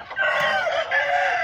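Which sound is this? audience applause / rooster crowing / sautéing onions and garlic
rooster crowing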